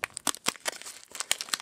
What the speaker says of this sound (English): this pack does not want to open